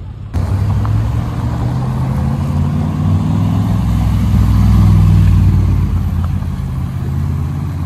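A Mansory-tuned Mercedes G-Class, the Mansory G-Class belonging to footballer Donnarumma, is heard on a Paris street as a loud, close engine rumble, building and swelling in the middle before settling, with no voices over it.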